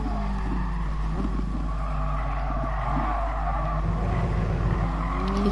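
A race car in GT Sport brakes hard into a corner, tires squealing and skidding over a steady engine drone, with shifting tonal whines and no voices, loud and close throughout.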